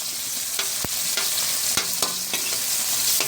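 Tomatoes hit a hot pan of sautéing string beans and small shrimp, raising a steady close sizzle broken by repeated spatula scrapes and clacks from stirring.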